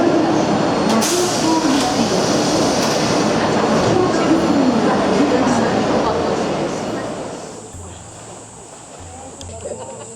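A crowded metro train in Japan rumbles along with dense, loud rolling and rattling noise and faint wheel squeal, then gradually quietens as it slows, with a voice talking over it.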